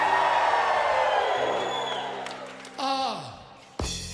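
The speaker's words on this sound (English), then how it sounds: "Now all of Branson is cheering." Crowd in Branson cheering and whooping loudly at a live show, a dense roar of voices that fades slightly before a fresh burst near the end.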